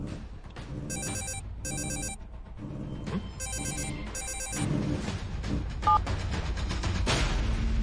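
A telephone rings with an incoming call, several distinct bursts of trilling electronic ringing separated by short gaps, heard clearly over a low background hum.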